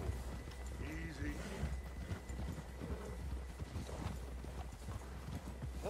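Horse hooves clip-clop steadily in Red Dead Redemption 2, a faint rhythmic trot under voices talking, with a brief whinny.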